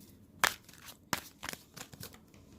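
Oracle cards being shuffled by hand make a few quick, close riffling bursts separated by short pauses, fairly quiet and with no talk.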